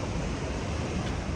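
Water pours over Epupa Falls in Namibia, a dense, steady roar of rushing water with no pauses and no voices.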